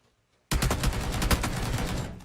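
Gunfire in a PUBG tournament match, including 7.62 rifle rounds: after a moment of quiet, a rapid, loud burst of automatic shots rattles out steadily for nearly two seconds before tapering off.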